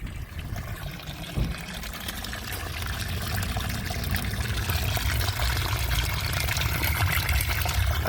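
Sewage water pours out of a plumbing line in a steady, splashing gush that grows slightly louder after a brief knock early on, close and continuous with no talk.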